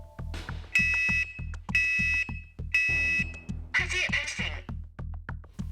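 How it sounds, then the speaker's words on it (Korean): A household smoke alarm blares during a test fire set in bedding on a bed, with repeated loud piercing beep bursts over a steady pulsing low tone and some scraping noise. "경보음이 시끄럽게 울립니다."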